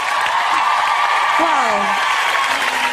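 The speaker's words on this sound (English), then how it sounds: "Big round of applause for Rachel." Studio audience applause and cheering after a dramatic results night on a TV talent show, steady and loud, with a voice speaking over it.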